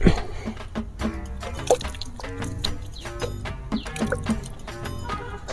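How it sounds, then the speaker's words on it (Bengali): A man splashing water on his face while washing, with repeated dripping and splashing close by, uneven little bursts of water throughout. "এই তো আমার বাপ ওঠে করে বসে বসে মুখ ধুছে"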